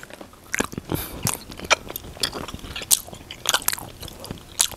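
Close, crisp crunching and chewing of Maynards candy snacks, with irregular bites and mouth sounds in a steady chomping rhythm.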